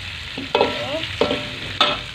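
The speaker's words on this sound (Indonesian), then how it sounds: "Kita aduk-aduk sebentar, aduk-aduk seperti ini." Half-fried chicken pieces are stirred in seasoning in a sizzling pan, with three distinct scraping stirs over a steady frying hiss.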